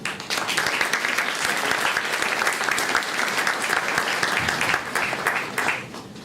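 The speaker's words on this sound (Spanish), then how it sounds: "recibamos un aplauso" A lecture audience claps to welcome Professor Maritza Aburto Durán to the podium, with dense, even applause filling the room throughout before tapering slightly near the end.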